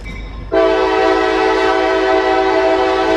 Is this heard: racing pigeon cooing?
no